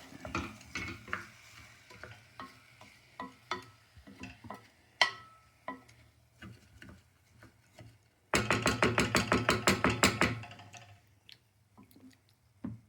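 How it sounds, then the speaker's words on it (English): Rice is stirred in oil in a pot, giving soft scraping and clicking strokes in an irregular rhythm, then a dense steady run of quick rattling scrapes for about two seconds before slowing again; no talk. "Stir it around so all the rice gets a little oil on it"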